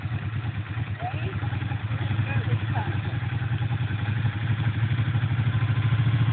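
A motorcycle engine runs steadily close by as a learner rider works the clutch and throttle, a continuous low rumble with occasional clatter and thumps.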